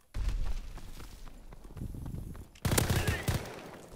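Call of Duty WWII multiplayer machine gun fire, rapid loud bursts in two stretches with a brief lull between, close and sharp.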